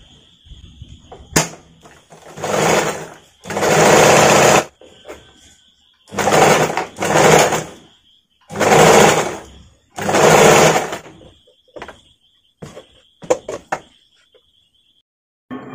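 A sewing machine stitches blouse lining in a series of short, rhythmic runs separated by pauses, each burst a loud, close mechanical whir, with a few lighter clicks at the end.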